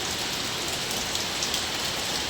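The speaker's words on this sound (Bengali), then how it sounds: "এখন আবার শুরু হয়ে গেল বৃষ্টি।" Heavy rain pours down during a storm, a dense, even hiss of drops hitting surfaces that holds steady and close throughout.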